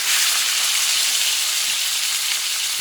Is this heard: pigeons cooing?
no